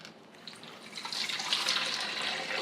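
Water filling the reservoir of a Crownful countertop ice maker, a soft pouring trickle that swells gradually and stays steady and close, with no voices.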